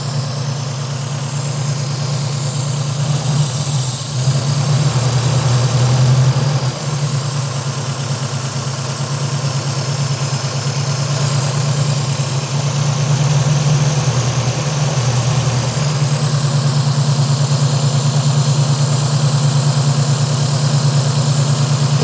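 A carburetted Toyota Corona engine that burns a lot of fuel and knocks idles steadily up close with a constant heavy hum, sagging briefly twice as if about to stall. No voices are heard.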